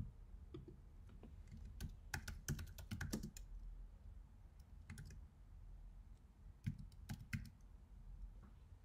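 Typing on a computer keyboard, heard as quiet, close key clicks in irregular bursts with short pauses, faint and steady against a soft background hiss, no voices.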